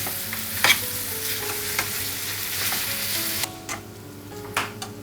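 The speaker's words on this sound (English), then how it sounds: "I'm just going to cook the onions just until they're translucent" Onions frying in a pan, a dense sizzle with stirring clicks that drops suddenly to a quieter simmer, followed by a few more taps of the utensil.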